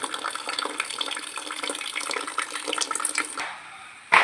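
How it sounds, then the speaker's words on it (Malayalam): Water pours steadily out of a can through a small hole and drains downward, a continuous splashing gush that stops abruptly near the end, followed by a brief clunk. "ഈ വെള്ളം താഴേക്ക് കളയുന്നു"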